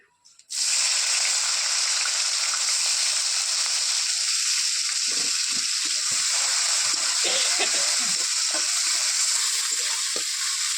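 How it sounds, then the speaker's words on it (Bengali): Chopped onions hiss and sizzle loudly in hot oil with fried cinnamon, cloves and cardamom, starting abruptly and continuing steadily, with occasional soft stirring scrapes underneath. "পেঁয়াজটাকে ভালো করে ভেজে নেবো"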